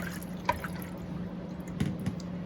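Warm water poured into a bowl, a soft splashing trickle with a few small drip-like plops over a low steady background hum, fairly faint and without talk.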